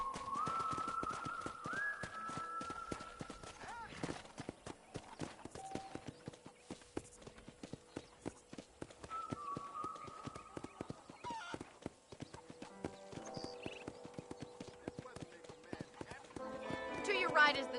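A horse's hooves clip-clop in a steady rhythmic gait in Red Dead Redemption, moderately quiet, with bird calls and people talking over the ride.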